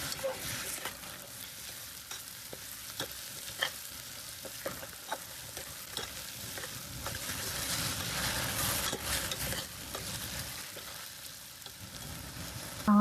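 Onions browning in a pan for a Kerala-style pork stew sizzle softly and steadily, broken by a run of stirring scrapes and taps, with no talking.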